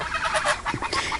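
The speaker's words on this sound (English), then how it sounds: "That's my geese you can hear in the background." Geese roughly nine weeks old honk in a short burst of several overlapping calls, fairly close and moderately loud, with no talking over them.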